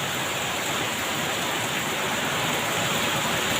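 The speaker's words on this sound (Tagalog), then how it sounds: "Ang lakas ng ulan." Heavy storm rain pours down in a dense, steady roar, loud and unbroken, with no voices heard.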